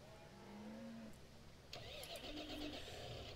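Tractor engine cranking over and catching in Farming Simulator 15, a rougher low engine drone that rises abruptly partway through over a steady game background hum, with some speech-like sound present.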